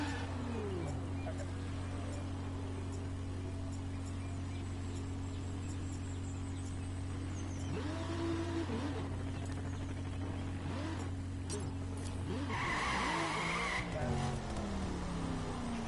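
A Ferrari 458 Speciale in the racing game The Crew holds a steady, droning engine note with tyre noise for about twelve seconds, then the tone shifts and breaks up as the car changes pace.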